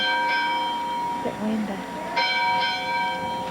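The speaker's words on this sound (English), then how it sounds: "Mary and Mama's ringing the bell." The bell at Prairie View Church rings out in repeated strikes with long humming overtones, heard outdoors from a short distance while a person speaks briefly over it.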